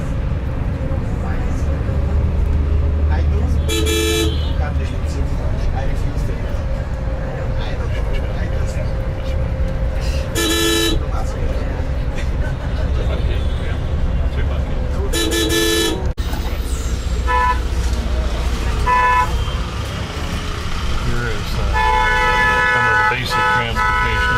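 Vehicle horns honk repeatedly in busy Indian street traffic alongside buses and trucks, with three loud blasts a few seconds apart and more scattered toots later, all over a constant rumble of engines and road noise.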